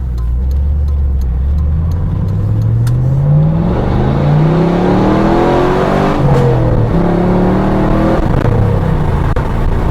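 A fourth-generation Camaro Z28 with a shift kit cruises on the road at about 60 mph, its engine loud and close, rising through the revs in steady pulls with shifts between them.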